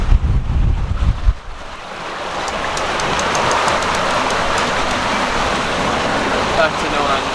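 Heavy wind and breaking waves rush steadily around a sailboat in a Caribbean squall between the Windward Islands, with a strong low gust buffeting the microphone at the start before settling into a continuous roar of wind and water.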